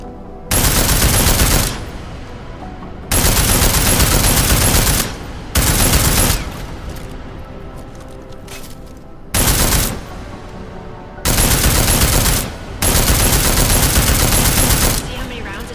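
Rapid automatic gunfire from the video game Deus Ex Mankind Divided, delivered in six loud, close bursts of varying length separated by quieter gaps.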